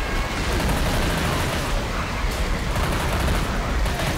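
Continuous loud gunfire from a player shooting in a Halloween-themed video game, a dense, sustained barrage of rapid shots filling the whole stretch with no pause.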